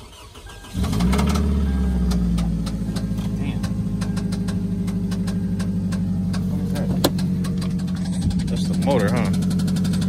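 A car engine catches at a Copart auction lot and settles into a steady, close idle with a low rhythmic hum and a faint ticking, while people talk nearby.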